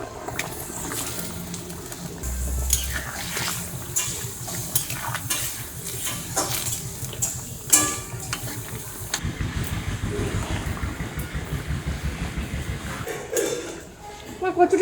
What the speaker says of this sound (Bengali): এবারে দেবো ভেজে রাখা মাছ।